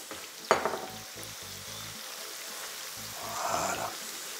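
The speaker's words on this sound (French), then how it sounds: "Je vais rajouter maintenant les oignons émincés. Hop. Et je les immerge bien dans l'huile également." Sliced onions drop with a splash into oil already holding soft potatoes for a tortilla, then fry with a soft steady sizzle under faint background music.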